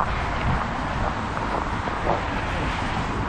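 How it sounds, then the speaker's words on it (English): Strong wind gusts buffet outdoors on a frozen winter walk at eight below zero with 30 mph winds, a loud roaring rush of wind noise with faint passing traffic beneath, continuous and close. "Now I'm walking with the wind"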